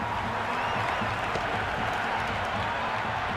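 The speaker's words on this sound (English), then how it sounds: "The crowd are really getting quite raucous." A raucous crowd at a Pakistan Super League cricket match between Lahore Qalandars and Hyderabad Kingsmen cheers and claps after a boundary, a dense continuous roar of noise.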